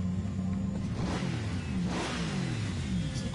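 A GT3 race car engine in the Gran Turismo Sport video game, revving steadily with a droning mid-pitched tone that rises and falls in pitch, with no talk over it.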